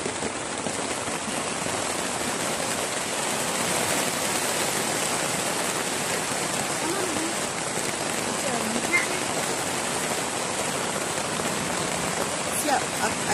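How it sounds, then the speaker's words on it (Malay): Rain falls at a campsite in Telupid, Sabah, as a dense, steady hiss that stays even and fairly loud throughout, with faint voices now and then. "Dah hujan."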